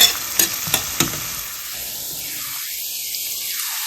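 Indian broad beans being sautéed in a pan, a few sharp stirring scrapes at the start giving way to a steady soft sizzle that fills the rest of the clip.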